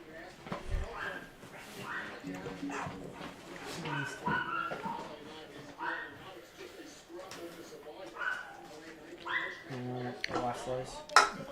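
A dog yips and whimpers in short bursts, somewhat distant, while people talk nearby.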